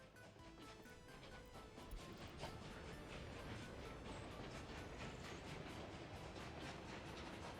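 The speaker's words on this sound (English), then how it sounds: "Again, I'm just going to follow the train." A train running in the city-building game Workers & Resources, a steady dense rumble with rapid clicking and clattering throughout, loud and continuous with no voices.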